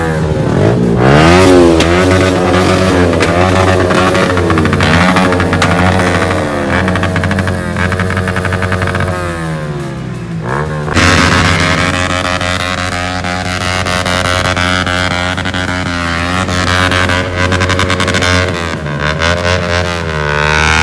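Motorcycle engine on a ride, loud and close, with a harmonic drone that climbs and drops as the rider revs and shifts, over steady road and wind rumble, with a brief dip partway through.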